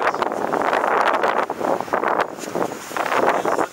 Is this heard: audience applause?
no